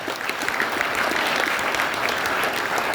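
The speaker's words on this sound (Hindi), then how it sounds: "उनके लिए एक जोरदार ताली चाहूंगा हमारे नरेश मिश्रा" An audience gives a mentor a round of hearty applause at a closing session, steady loud clapping sustained throughout with no break.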